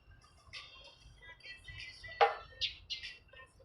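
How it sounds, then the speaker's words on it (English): Birds chirping outdoors in downtown Las Vegas at sunrise, several short bright calls rising above a low rumble of city traffic, one sharper call near the middle and a couple more toward the end. "the birds are all acting crazy right now"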